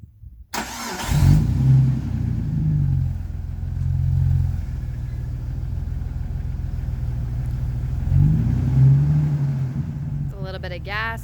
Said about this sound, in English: This is what it sounds like as soon as you start the car.